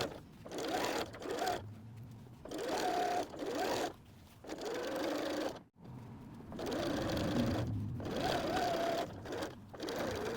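A domestic sewing machine stitches a seam on a messenger bag in steady, loud runs of rapid stitching, broken by short pauses between bursts, with a faint voice only briefly audible.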